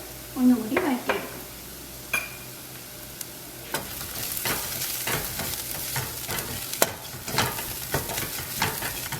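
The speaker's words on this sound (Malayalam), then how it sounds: "പൊടികളുടെ പച്ചമണം മാറുന്ന വരെ വഴറ്റി കൊടുക്കാം" Ground spices (garam masala, coriander and chili powder) fry in a pan for Indian-style masala pasta, with a soft steady sizzle broken by scraping spoon strokes and clinks against the pan.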